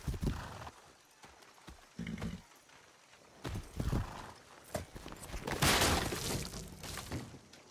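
Horse hooves clip-clopping in the video game Far Cry 6, a run of near, moderately loud hoofbeats with a brief whinny, plus a sharp crashing burst toward the end.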